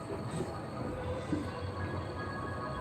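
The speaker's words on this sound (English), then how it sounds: "I heard a train." A train rolls along a railway line in a steady, even rumble of wheels and cars that holds at a moderate distance throughout, with no voices.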